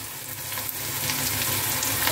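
Onion, chili and tomato sizzle steadily in a pan for spicy lapsi, a continuous close frying hiss with no voices.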